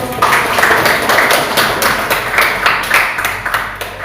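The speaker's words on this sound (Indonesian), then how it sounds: "ya berikan aplaus untuk" Audience applause at an Islamic religious education class session in Samarinda: dense, steady clapping from many hands that fills about four seconds without pause, with no talking over it.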